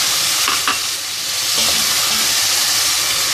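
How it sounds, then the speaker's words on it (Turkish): Minced meat, onions and tomatoes fry loudly in a pan for a purslane dish, giving a dense sizzling hiss with scraping stirring strokes near the start, and no voices. "Evet güzelce kavrulan kıyma ve soğanlarımıza domatesimi ekliyorum."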